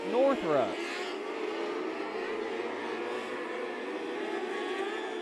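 A dirt track race car with a Kawasaki 636 engine, on a hyper chassis, roars past in a quick rising and falling sweep during hot laps at the Hoosier Dirt Cup, followed by a steady distant engine drone.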